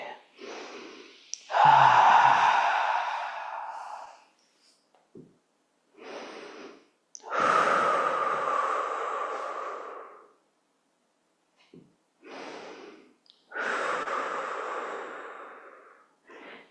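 Slow, deep breaths during a guided stretching and movement session: long airy inhales and exhales, each lasting a few seconds, separated by short quiet pauses and a few brief soft sounds.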